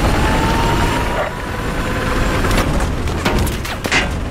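A helicopter in the video game Battlefield 4 flying amid combat, a steady rotor-and-engine roar with scattered gunfire and explosion bursts cutting in toward the end.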